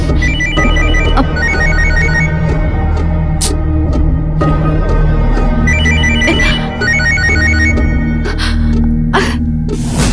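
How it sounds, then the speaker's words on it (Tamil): A phone rings unanswered with a repeating electronic ringtone pattern, loud and close throughout, over a sustained low musical drone with occasional sharp sounds, as in a Tamil TV serial scene. "இல்லம்மா, ரிங் தான் போயிட்டு இருக்கு."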